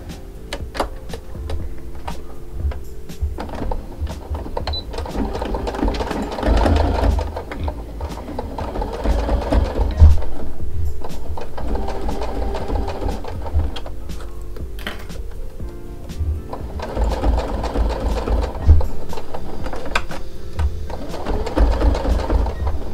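A sewing machine stitches a long seam on a baby bootie in the country-style ankle-boot pattern, running in steady mechanical bursts with brief pauses between stretches of stitching, loud and close.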